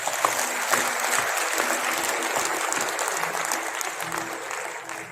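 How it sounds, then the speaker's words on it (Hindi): A large audience breaks into loud, sustained applause with a dense, steady wash of claps at a Dainik Jagran event held at GL Bajaj College. "मैं चाहता हूं एक बार अपने अभिनंदन में जोरदार तालियां बजाएं।"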